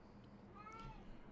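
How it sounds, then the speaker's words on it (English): A single faint cat meow sounds in the background of a quiet room, a short rising and falling cry over a low steady hum. "That's my cat in the background."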